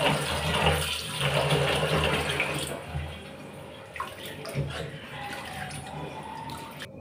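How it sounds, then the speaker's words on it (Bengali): Tap water pours and splashes steadily as lentils (dal) are washed in a kitchen, heavy at first, then easing into lighter trickles, drips and handling clatter. "তো ডালগুলো আমি ধুয়ে নিচ্ছি।"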